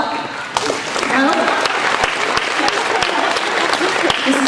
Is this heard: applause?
yes